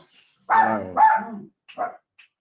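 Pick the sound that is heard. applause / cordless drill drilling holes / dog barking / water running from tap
dog barking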